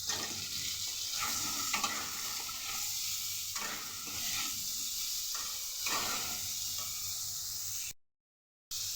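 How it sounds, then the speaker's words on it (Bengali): Cut pointed gourd fries in a wok with no extra oil, a steady close sizzle with occasional stirring scrapes, alone until it cuts off before the end. "এবার এই কড়াইতে আমি আর তেল দেব না, এর মধ্যে দিয়ে দেব কেটে রাখা পটল।"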